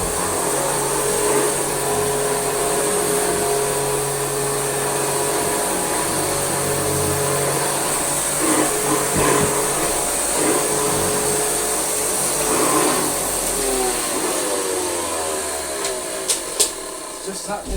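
A Hoover 612 vacuum cleaner with a filthy bag runs continuously, a steady loud motor drone with a slight metallic tone, and a voice speaks briefly over it.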